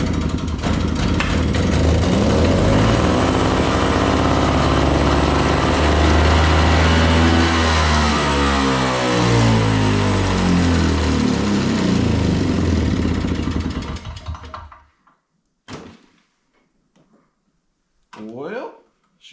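Old Craftsman two-stroke snow blower engine running loud and close with a rough, uneven buzz for about fourteen seconds before sputtering and dying, followed by brief quiet and a couple of short noises.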